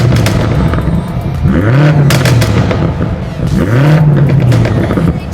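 BMW M8 Competition Cabriolet with a reworked exhaust system, revving loudly up close in two rising and falling sweeps, each with crackling pops on the overrun.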